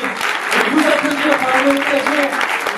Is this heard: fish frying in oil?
no